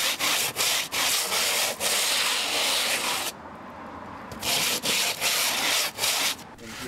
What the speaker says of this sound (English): we sand down any rough parts of the concrete exterior